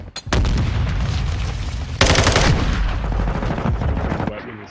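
Rapid automatic gunfire from a weapon in Modern Warfare 2 multiplayer, loud and continuous across the whole stretch with dense bursts of shots and a heavier volley midway, over layered battlefield game audio.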